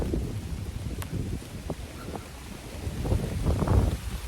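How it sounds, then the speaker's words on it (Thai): Strong wind gusting through a deep forest, low rumbling buffets rising and falling with a stronger surge toward the end, loud and close against the microphone. "ลมแรงมาก"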